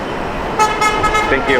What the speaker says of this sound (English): Well, you can hear the beeps going by.